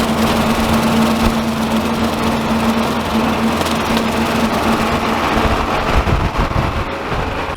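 Steady, loud drone of a lawn mower engine running continuously in an open field, a constant close rumble with a faint high whine, no voices.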